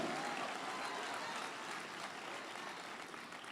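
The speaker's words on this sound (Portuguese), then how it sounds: "Você pode aplaudir ao nome do Senhor?" A church congregation applauds, a dense, continuous wash of clapping that stays fairly even and fades slightly toward the end.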